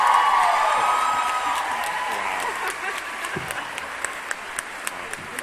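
Audience applause and cheering fill a Comic Con panel for an Outlander actor, starting loud and dense, then thinning into scattered claps and whoops toward the end.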